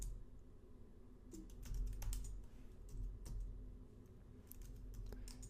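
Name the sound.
typing a Linux terminal command on a computer keyboard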